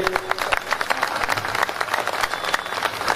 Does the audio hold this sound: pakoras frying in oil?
no